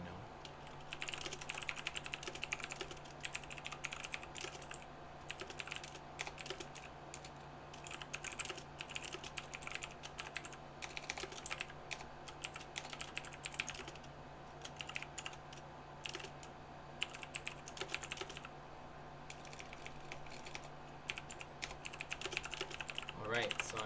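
Continuous loud clacking of a computer keyboard being typed on, fast irregular keystrokes over a steady hum, with occasional faint talk.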